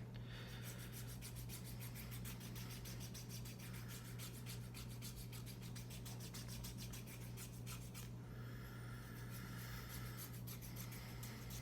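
Fingernails filed smooth during a man's manicure, heard as faint, steady rasping strokes in quick back-and-forth rhythm over a low constant hum.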